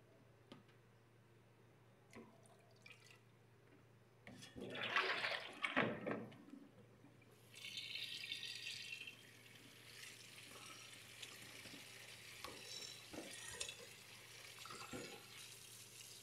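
Fish being cleaned for paksiw under running water, with a tap gushing and splashing in a sink, a loud rush of water in the middle, then steadier flowing and handling sounds close by.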